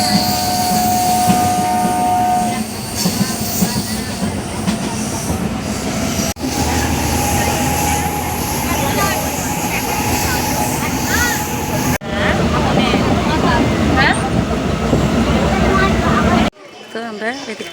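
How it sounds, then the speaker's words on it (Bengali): A train approaches a crowded station platform with a rumbling roar and rattling wheels, loud and sustained, while voices of waiting people carry through the din. "তো ট্রেনটা আসবে ওই দিক থেকে"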